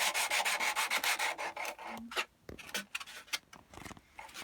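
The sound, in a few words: sanding wood with sandpaper wrapped round a block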